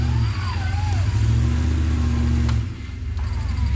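An off-road vehicle on 40-inch tyres crawls over rocks, its engine droning loud and close with a steady low hum that dips briefly before picking back up.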